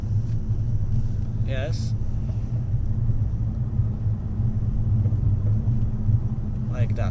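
Car climbing the Transalpina mountain road in Romania in third gear: steady low engine and road rumble heard from inside the cabin, with a brief spoken word from an occupant.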